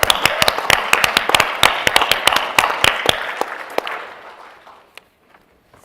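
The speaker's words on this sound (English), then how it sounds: "let's clap for that." A convention audience at a farm-focused panel bursts into applause, a dense wash of many hands clapping with sharp individual claps poking through, loud and close, then thinning out and dying away into quiet after about four seconds.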